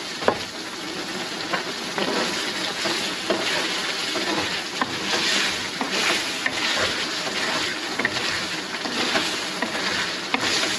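Chicken ginger karahi sizzles and fries steadily with yogurt and cream in the pan, a dense continuous crackle with occasional stirring scrapes, close and fairly loud throughout with no talking.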